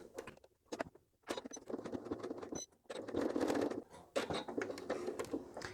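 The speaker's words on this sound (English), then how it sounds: "So I'll top stitch attach that." A sewing machine top stitches fabric in short, uneven bursts of rapid mechanical patter, stopping and starting with brief pauses between runs, close and moderately loud.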